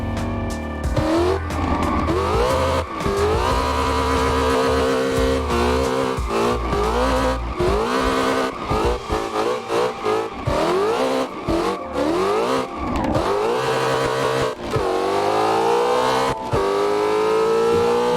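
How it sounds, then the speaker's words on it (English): A 770HP Ford Mustang GT350 in Assetto Corsa, with traction control and ABS off, revs hard through gear changes and spins donuts, tires squealing and skidding alongside the loud, rumbling engine for the whole stretch. "You put a good pair of headphones on and you get some rumbling of a GT350 like this"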